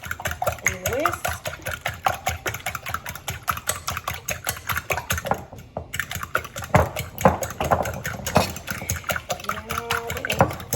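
Eggs with a pinch of salt are whisked briskly in a bowl, a fast, steady clatter of the whisk against the sides, with a voice speaking briefly partway through.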